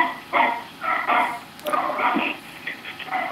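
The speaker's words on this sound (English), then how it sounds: "Sounds like we've got somebody's dog on the line there." A dog barks in several short bursts over a phone line during a call-in book chat, the barks sounding thin and filtered, moderately loud, with no talk over them.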